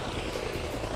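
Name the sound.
Air Force helicopter flying overhead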